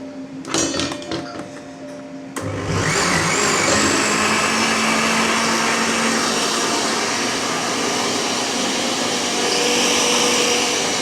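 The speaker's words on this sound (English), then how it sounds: "we're going to turn on the blender" A couple of clicks, then a blender motor starts with a sudden loud whir and keeps running as a steady, high-pitched roar.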